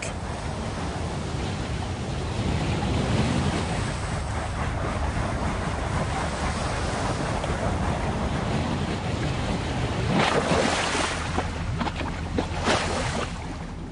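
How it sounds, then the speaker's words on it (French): Overflow water from a canal pours steadily through aqueducts into a parallel river, a continuous rushing wash that grows briefly louder and splashier near the end. "Ce trop-plein est déversé dans une rivière parallèle au canal par un réseau d'aqueducs."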